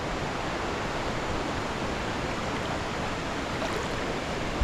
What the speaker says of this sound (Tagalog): umiikot po ba ang tubig